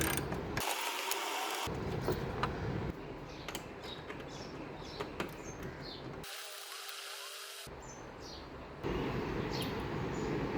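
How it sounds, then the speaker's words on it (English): A ratchet with a 10mm socket clicks as it backs out two bolts on a Kia Sportage, a close, quiet run of rapid mechanical ticks in short spurts with small pauses and no speech. "use a 10mm socket with a ratchet to remove the 2 bolts"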